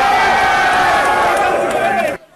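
A dense, loud crowd roars and cheers together at a presidential campaign rally in Bafoussam, with many voices blending into a continuous wash before the sound cuts off sharply just before the end.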